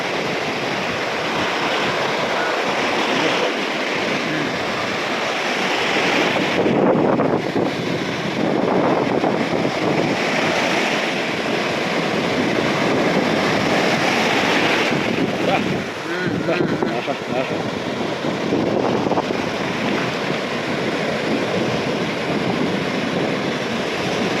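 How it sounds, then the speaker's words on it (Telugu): Big ocean waves roar and wash continuously, with heavy wind buffeting the microphone throughout; loud and close, surging in long swells. "వస్తున్నాయి పెద్ద పెద్ద అలలు"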